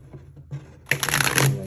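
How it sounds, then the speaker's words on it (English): Tarot cards being shuffled: soft scattered rustles at first, then a dense, loud riffling burst in the second half, close by with no voices. "I want one more shuffle."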